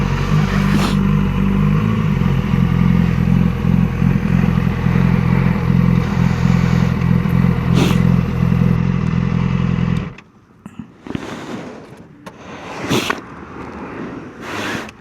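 A Yamaha R6 sport motorcycle idles loudly and steadily close by for about ten seconds, then its engine cuts off. Quieter scattered clatter and handling noises follow in the near silence.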